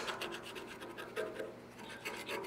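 Weld spatter scraped off a cold-rolled steel coupon, a series of short, fairly faint rasping strokes in quick rhythm with brief pauses, alone without talk.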